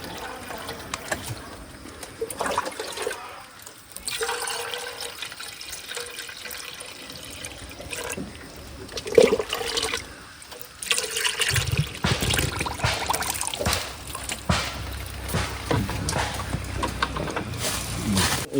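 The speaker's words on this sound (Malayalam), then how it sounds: "ജസ്റ്റ് വെള്ളം ഒഴിച്ചേക്കാം" Water is poured over an old-model Mahindra pickup, splashing and trickling in an uneven wash that swells and fades, louder and denser in the second half, with no one talking.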